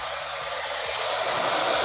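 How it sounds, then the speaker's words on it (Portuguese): A handheld hair dryer blows with a steady, loud, airy roar while a lock of hair is straightened and styled, holding without a break from start to finish. "Aí você vem com o secador e vai fazendo um alinhamento dessa mecha."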